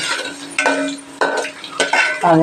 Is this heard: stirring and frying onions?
yes